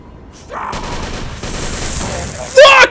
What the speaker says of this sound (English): they have fucking machine guns!